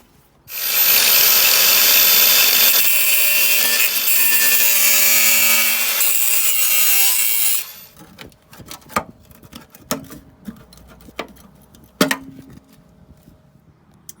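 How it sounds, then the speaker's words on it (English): A power grinder smooths rough metal edges on a Ford ST170 car under restoration, whining loudly for about seven seconds before stopping. Scattered knocks and handling clatter follow. "polish around the edges or grind the edges off, just make sure they're smooth"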